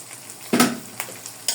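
Chopped tomatoes and egg frying in a pan for chow mein: a loud burst of sizzling as food is stirred, followed by a few shorter scraping sizzles at intervals.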